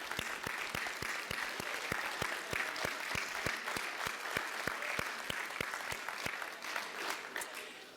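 Audience at a university fall commencement ceremony applauds steadily, a dense wash of clapping with sharp individual claps standing out, sustained and even throughout with no speech.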